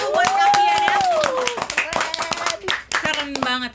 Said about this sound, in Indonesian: Tepuk tangan dulu buat Kavian ya.